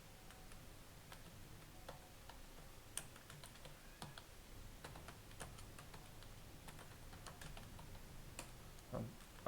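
Quiet, rapid keystrokes on a computer keyboard while entering product names into an MS Excel spreadsheet, a steady run of light clicks with a few louder taps, close and alone with no talk.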